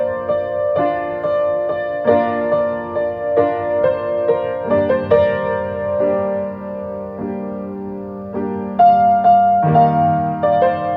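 Solo piano playing the intro of a song, sustained chords changing every second or so with a higher melody note ringing out, clear and close with no voices.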